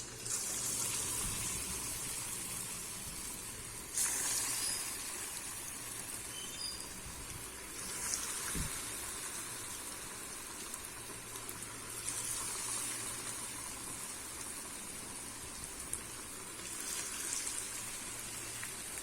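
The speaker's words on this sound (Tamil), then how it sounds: "இப்போ நம்ம போண்டா பொரிச்சுக்கலாம்" Vegetable bonda made from wheat flour batter sizzles and crackles steadily in hot oil on a medium flame, a close, continuous frying hiss with small bursts of bubbling.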